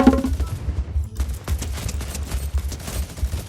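Rapid, continuous minigun fire from a boss in Fortnite Chapter 2, loud rattling bursts with heavy low thumps, unbroken for several seconds.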